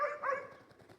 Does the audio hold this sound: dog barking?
yes